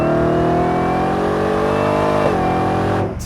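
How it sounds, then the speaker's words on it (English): A 2023 Ford Raptor R with a 5.2-liter supercharged V8 roars loudly and close during a rear-wheel-drive burnout launch, a sustained high-revving engine note with a slight pitch shift before it drops off at the end. "that was a smoky burnout launch, rear-wheel drive, which a TRX can't do"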